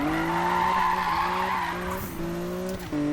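Nissan Skyline R34 drift build in Need for Speed 2015, tires squealing and skidding continuously over a loud, droning engine as the car slides through a drift.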